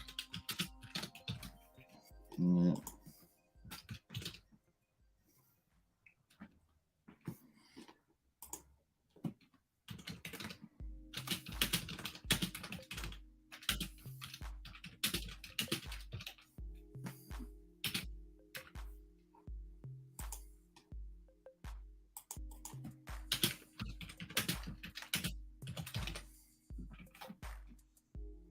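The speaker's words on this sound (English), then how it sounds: "That's what it does when I'm typing out this thing." Computer keyboard typing in bursts of quick, close clicks, sparse at first and then steady and dense, with a brief spoken word near the start.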